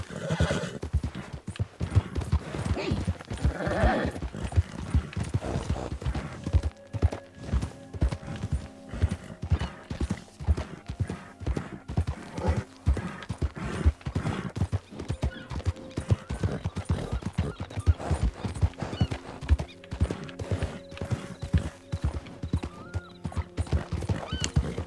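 A horse in a Wild West roleplay game clops steadily at a walking pace, close and clear, with a few whinnies and snorts mixed in and occasional faint game sounds, no talking.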